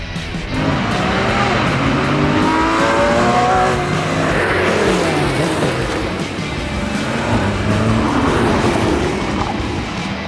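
Chevrolet Camaro SS and Porsche Boxster GTS sports cars drag racing, engines roaring loudly and continuously with rising and falling revs and a hint of tire squeal, close by.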